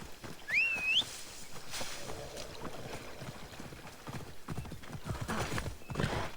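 Rapid clip-clop of a horse's hooves in a video game, steady and fairly loud, with a short whinny near the start and no talk.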